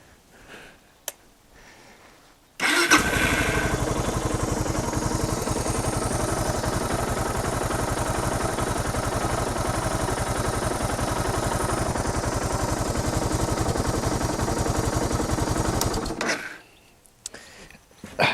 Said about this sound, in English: we'll just start the bike up, let it run for a couple of seconds